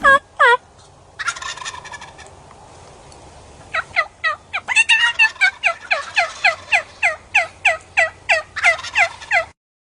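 Jakes, young wild turkeys, gobble in the woods: a few rattling calls at first, then a long run of quick, loud, repeated gobbles close by.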